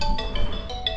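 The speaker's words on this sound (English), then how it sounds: "And my phone's going." A phone rings during a car repair session, giving short repeated electronic ringtone tones over a steady background hum, fairly close.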